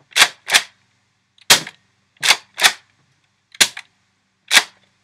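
A Nerf Raider CS-35 toy blaster fires foam darts in seven sharp, loud pops. Two come close together, then the rest follow in uneven pairs and singles with silence between, and no one talks.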